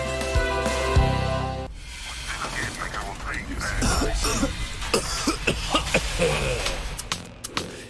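Several short, harsh coughs burst out one after another, close and loud, following a brief tonal passage.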